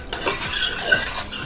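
A spoon scrapes and stirs a thick fenugreek lehyam mixture in a pan, making several close, rhythmic strokes with faint sizzling between them; no voices.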